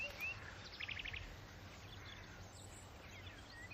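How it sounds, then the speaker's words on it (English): A blackbird sings in a quiet outdoor garden, with a few short, faint chirps and trills over a soft background hiss, distant and without voices. "No, that's a blackbird."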